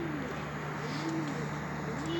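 Pigeons coo softly and repeatedly in a low, rolling rhythm, somewhat distant, beneath a steady constant hum and background noise.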